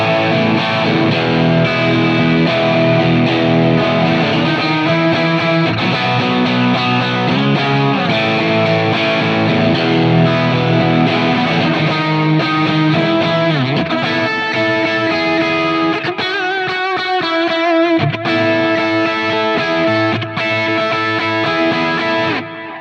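Electric guitar played through a big dotted-eighth and quarter-note delay setup, the repeats piling into a dense, loud, slightly distorted wash that plays continuously for over twenty seconds with no talking.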